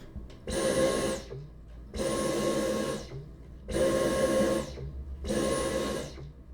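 A vacuum cleaner runs nearby in four repeated bursts of steady whirring roar, each lasting about a second and separated by short quieter gaps, heard fairly faintly with no talking.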